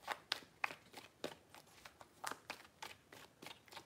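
Tarot cards shuffled by hand in a quick run of soft, papery riffles and taps, close and fairly quiet, with no talking over them.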